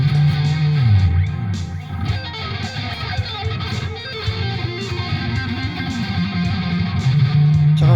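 Bright electric guitar notes and licks from a Fernando T-Style single-coil guitar, with a clean, slightly twangy tone, played continuously at moderate loudness with no talking.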